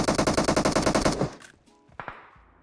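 Rapid automatic gunfire in PUBG on the Erangel map, a fast burst of about twenty close, loud shots lasting just over a second, followed by quieter scattered clicks and a couple of single distant reports.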